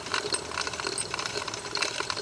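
A Wilesco Old Smokey toy steam engine running steadily at close range, a fast, continuous mechanical clatter and ticking with light metallic rattles, no voices over it.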